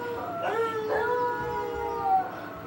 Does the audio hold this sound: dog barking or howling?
yes